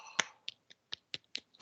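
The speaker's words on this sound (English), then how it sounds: "Are you clapping me or him?" One person clapping in a quiet room during a game show, a handful of sharp, separate claps in an uneven rhythm, the first loudest and the rest lighter.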